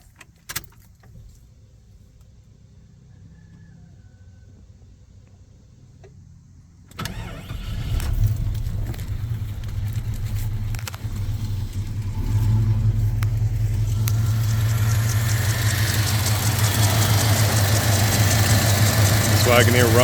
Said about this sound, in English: So I'm gonna start the car up and let you hear how nice this Wagoneer runs.